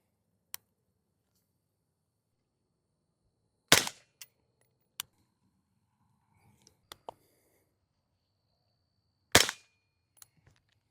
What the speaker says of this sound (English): I'm gonna go ahead and take one shot with each can with my ears out